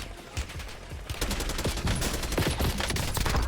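Rapid bursts of gunfire from the Warzone video game crackle loudly and almost continuously, dense overlapping shots building in intensity with no speech.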